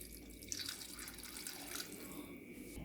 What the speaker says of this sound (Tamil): இப்போது இதில் தேவையான அளவு தண்ணி சேர்த்திடுறேங்க.